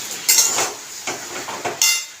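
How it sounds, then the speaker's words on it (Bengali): Food with turmeric is stirred in a metal pot, a spoon scraping and clinking against the sides in several separate strokes, with a faint sizzle underneath. "একটু নাড়াচাড়া দিয়ে নিলাম"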